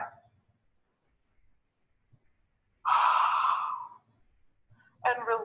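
A single deep breath drawn in and let out slowly, close and fairly loud, lasting about a second and a half between quiet pauses, with a short breathy burst near the end.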